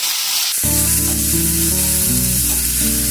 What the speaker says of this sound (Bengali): টক ঢ্যাঁড়সটা দেওয়ার পর আমি খুব ভালোভাবে এগুলোকে নাড়াচাড়া করে নেব।